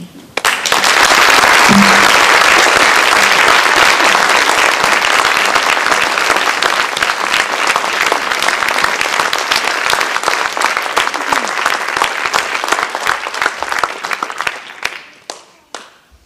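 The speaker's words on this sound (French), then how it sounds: "je vous demande, ainsi que Joël, d'applaudir à la fois leur courage et la mémoire de Philippe" A theater audience applauds at length after a tribute before a performance of Octave Mirbeau's Les Amants, a loud, dense, sustained wash of many hands that holds steady, then thins into scattered last claps and fades out.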